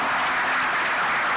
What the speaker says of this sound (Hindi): Please welcome Anna on stage with a huge round of applause.